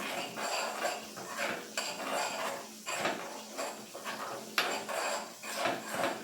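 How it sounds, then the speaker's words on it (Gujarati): A spoon stirs roasted sesame seeds into red chili chutney in a pan, making repeated close scraping and clinking strokes against the metal in a steady rhythm, with no talking. "તલ એડ કરી અને બરાબર મિક્સ કરી લેશું."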